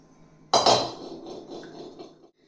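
Aluminium kadai pans of sizes 12, 14 and 16 are handled, with one sharp metallic clank followed by a short ringing rattle as they settle, then fading to quiet.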